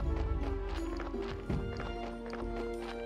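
Donkey hooves clip-clopping in the video game Graveyard Keeper, a steady run of hoof knocks over a dense, busy game soundscape with tonal background music.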